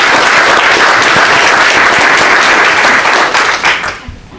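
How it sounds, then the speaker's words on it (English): Loud, dense applause from a crowd at a Democratic committee's mayoral campaign announcement in Waterloo, steady and sustained before tapering off near the end, with no voices over it. "but round of applause for our Waterloo."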